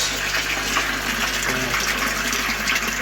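Water pours steadily into an aquaponics grow bed from a pump setup, a continuous close gushing and splashing flow with no talk over it.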